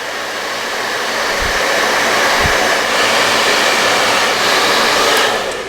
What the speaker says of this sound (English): So you take your blow dryer, high heat,